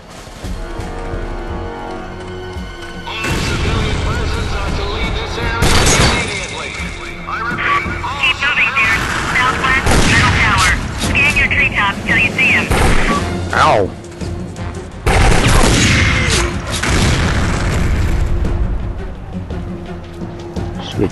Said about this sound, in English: he's the one shooting the hell out of me